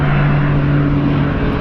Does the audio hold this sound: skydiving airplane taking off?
yes